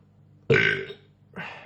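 A single loud close burp after drinking Lagunitas DayTime ale, followed by a shorter, softer second belch.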